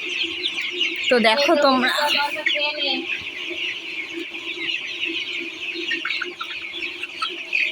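Chickens cluck in a backyard coop kept for raising poultry, a steady hen chatter running throughout, with a person speaking briefly near the start over the birds.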